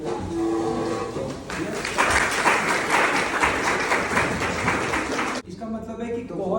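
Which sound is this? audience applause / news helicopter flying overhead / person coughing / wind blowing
audience applause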